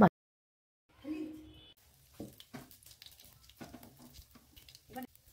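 Cumin seeds and dried red chillies hit hot oil in a wok, giving a soft sizzle that starts around one second in, then gentle crackles and stirring taps continue quietly to the end.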